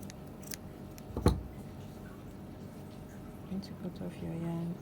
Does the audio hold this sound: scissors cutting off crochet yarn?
yes